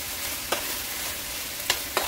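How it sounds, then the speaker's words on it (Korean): Dried filefish being stir-fried in gochujang sauce, giving a quiet, steady sizzle with a few sharp scraping stirs of a spoon against the pan, with no talk. "쪼리듯이 볶아주세요."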